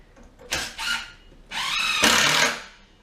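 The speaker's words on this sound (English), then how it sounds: "you've got to use, if you're going outside, stainless steel screws, and you screw it in like this" Power drill driving stainless steel screws into an outdoor artificial hedge panel, in two loud bursts with a short pause between them, the second burst longer.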